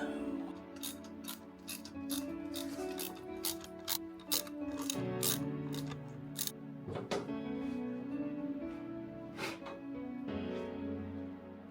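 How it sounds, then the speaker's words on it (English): Ratchet clicks in short bursts while bolts are tightened on the charge pipe of a 2022 VB Subaru WRX, sharp repeated ticks over a steady hum of mechanical background noise, fairly close. "We are finishing up, tightening all the stuff."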